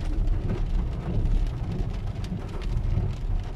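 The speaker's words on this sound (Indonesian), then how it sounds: "seperti inilah di Jeddah juga ada hujan" Rain pours down on a street in Jeddah at night, a steady, dense hiss and patter with a low rumble underneath, continuous and fairly loud throughout.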